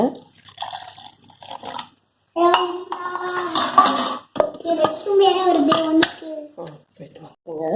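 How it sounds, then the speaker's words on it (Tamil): Hot water poured from a tumbler into a kitchen mix of ground ginger, amla, curry leaves and country sugar for a hair-care juice, giving a short watery splash and drip with clinks, under a speaking voice. "இப்போ ஒரு டம்ளர் சுடுதண்ணி ஊற்றிக்கிறேங்க"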